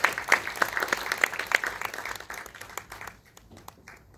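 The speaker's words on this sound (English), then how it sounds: "Please welcome with a rousing applause." Audience applause greets a speaker at a defence conference: scattered but lively clapping with distinct individual claps, fading gradually over about four seconds to a few last hands.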